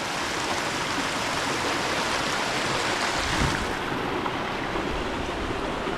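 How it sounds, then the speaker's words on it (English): A small river rushes through the Monteverde rainforest in Costa Rica, a steady, close, broadband wash of flowing water with no talk. "here we are, very much off the beaten track, on this small river here"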